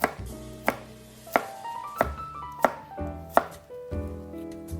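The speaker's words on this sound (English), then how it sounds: "When we cut vegetables for sauces and stocks, we call the cut mirepoix." A knife chops root vegetables into rough, fairly even mirepoix pieces on a board, six crisp, evenly spaced blows close by, with faint ringing tones between them and no talk.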